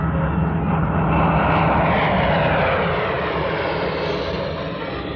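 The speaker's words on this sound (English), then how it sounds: "A light aircraft passed overhead," A light propeller aircraft drones loudly overhead, a steady rough engine roar that holds strong and then eases slightly as it moves away, with no talking.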